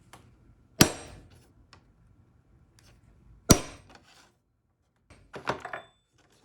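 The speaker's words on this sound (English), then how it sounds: "So I'm just punching a little mark" A hammer strikes a center punch twice, marking drill points during a Honda Element micro-camper base build. Each blow lands as a sharp, isolated metallic tap, several seconds apart, and a few softer handling clicks follow.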